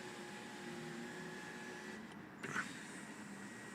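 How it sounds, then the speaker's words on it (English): The electric panoramic roof and sunblind of a 2017 Mercedes-Benz A-Class A 200 d AMG Line hum open inside the cabin, a faint steady motor whine with a brief soft clunk near the end, no voices. "Hold it again, and that will open the panoramic roof for you half the way back"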